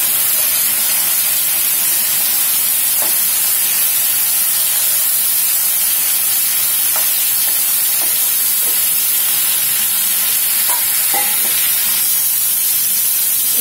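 Bitter gourd (karela) frying in a pan gives off a loud, steady broadband hiss and sizzle, close and continuous, with faint clinks now and then and no talking.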